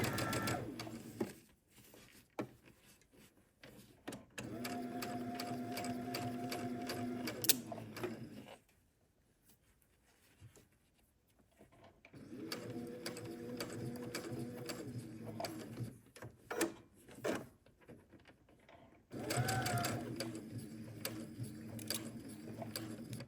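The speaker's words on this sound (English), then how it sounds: "we're going to go to the sewing machine, and we're going to sew a seam" A sewing machine runs in several steady bursts of rapid mechanical stitching along a seam of a shirt dress, pausing between runs, with quiet handling noises in the gaps.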